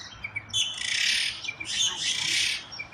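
Birds chirp and tweet repeatedly in bright bursts outside a window in the morning, fairly close and loud, over a low background hum from outdoors.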